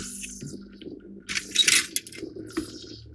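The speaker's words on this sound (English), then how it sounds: "I want to start putting the pieces in" Small plastic model kit parts from a 1:48 Panavia Tornado build rattle and clatter as they drop into a container, a quick cluster of light hard clicks, close and fairly quiet.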